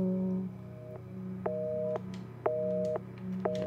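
Dead telephone line tone in Resident Evil 7, a repeating two-pitch beep pulsing about once a second over a low background hum, close and steady with no talk.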